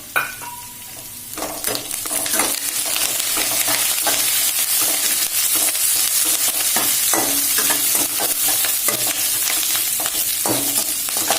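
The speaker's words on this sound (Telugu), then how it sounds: "ఇదిగోండి కరివేపాకు వేసేస్తున్నాను" Curry leaves dropped into hot ghee burst into a loud, close sizzle and crackle that keeps frying steadily, with occasional spoon stirring scrapes mixed in.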